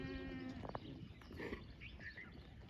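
A goat bleats nearby on a village farm, giving several short, wavering cries spread over a few seconds against a faint outdoor background.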